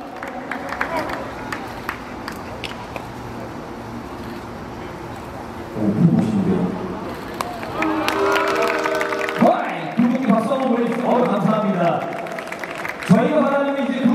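A crowd at a baseball opening ceremony for a national high-school tournament claps and cheers, the applause swelling midway and continuing with bursts of noise, under an announcer's voice and other talk.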